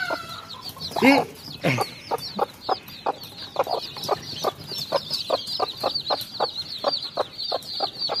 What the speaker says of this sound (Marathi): प्युअर गावठी कोंबडी ही बघा, चावाला येते। एग्रेसिव्ह कोंबडी बघा।